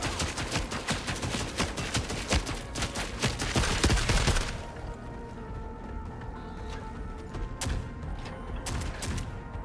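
Dense automatic gunfire from shooters in the video game The Forever Winter, a loud rapid fusillade for the first few seconds, then dropping to a low rumbling ambience with scattered single shots.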